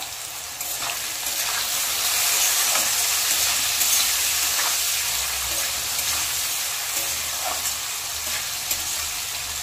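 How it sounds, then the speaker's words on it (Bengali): Potatoes seasoned with salt and turmeric fry on low heat with a dense, even hiss close to the pan, carrying faint crackles and an occasional stir and no speech. "আলুটাকে একদম কম আঁচে আধা ভালো করে ভাজতে ভাজতে সেদ্ধ হয়ে যেতে হবে।"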